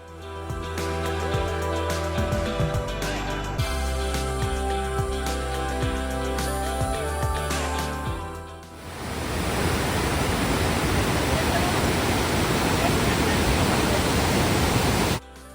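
Athirapally waterfall roars as a loud, steady broadband rush that takes over midway, after a stretch of tonal music-like sound in the first half.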